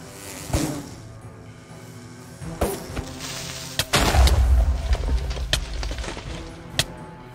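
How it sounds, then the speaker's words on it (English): An explosion from a creeper in the video game Minecraft. Sharp game sound effects pop throughout, then one loud, low boom hits near the middle and rumbles for a few seconds, with scattered clicks and thuds around it. "that was a freaking creeper"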